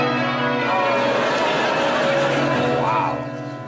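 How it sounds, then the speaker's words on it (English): Small jingle bells shaken by several panelists on a Christmas special of a TV quiz show, a continuous bright jangling held at steady loudness throughout, with studio voices and murmur mixed underneath. "So, jingle your bells, please."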